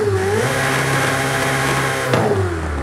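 Ferrari with a twin-turbo upgrade in a racing video game, engine droning steadily at high revs with a pitch dip and a sharp shift-like break near the end, loud and close with no talking.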